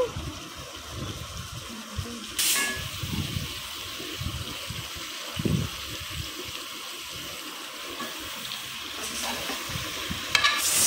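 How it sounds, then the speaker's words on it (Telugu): A goat head coated in masala for curry is stirred and fried in a pan, giving a steady sizzle with scraping stir strokes and a couple of louder clatters, close and continuous with no talk. "ఆ మసాలా అంతా బాగా పట్టేటట్టుగా ఇలా గోట్ హెడ్ని అయితే మిక్స్ చేసుకోవాలి."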